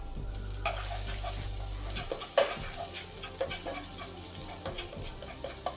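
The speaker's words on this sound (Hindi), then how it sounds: "इसको हम चमचा चलाते हैं।" Spoon stirring garlic cloves as they fry and sizzle in a pan, a steady frying hiss with scraping strokes and a sharper clink near the middle, no voices.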